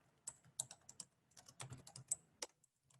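Fingers type on a computer keyboard while data is entered into a spreadsheet, a close, quiet run of irregular clicks with short pauses, no speech.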